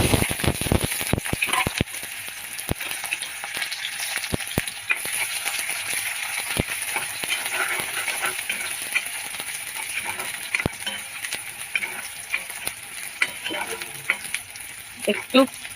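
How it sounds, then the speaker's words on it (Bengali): Chopped garlic and onion dropped into hot oil for a potato and greens dish, a loud, close, continuous sizzle with sharp utensil clicks against the pan, busiest at the start. "তেল গরম হয়ে গেছে এখন দিয়ে দিচ্ছি কেটে রাখা রসুন পেঁয়াজ"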